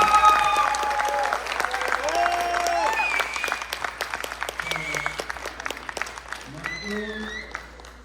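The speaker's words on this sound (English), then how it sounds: "Please give them a big round of applause." An audience applauding after a children's skit at a Basava Jayanthi community celebration, steady dense clapping throughout with voices and cheers rising over it.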